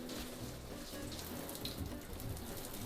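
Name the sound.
shower running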